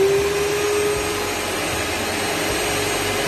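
Electric mixer running at top speed, beating egg whites while sugar is added a spoonful at a time for meringue, a steady loud motor whine with a high tone that fades after the first second.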